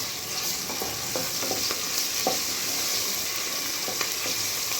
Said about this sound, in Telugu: అల్లం వెల్లుల్లిపాయ పేస్ట్ వేసానండి.